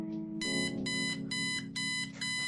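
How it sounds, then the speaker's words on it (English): An old alarm clock rings in loud repeated bursts of harsh metallic bell-like tone, four quick pulses separated by short gaps, near and alone with no voices. "that alarm clock brings back memories"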